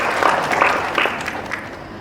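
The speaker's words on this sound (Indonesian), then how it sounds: "Kita tepuk tangan" Audience at a pharmacy college graduation ceremony in Padang claps together, a dense burst of applause with a few sharper claps standing out, fairly close and loud, tapering slightly over two seconds.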